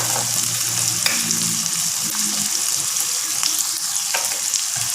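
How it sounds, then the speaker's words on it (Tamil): Onions sizzling with ginger garlic paste in a hot pan, a loud steady frying hiss throughout with occasional stirring scrapes, close by. "வெங்காயம் சட்டில் வதங்க ஒன்றா போட்டிருக்கேன்."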